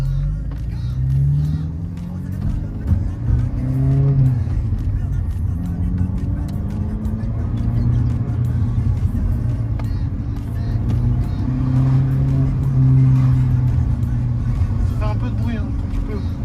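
A BMW 1 Series engine droning while driving, heard from inside the car as a steady, loud low hum with swelling revs, while people talk over it throughout.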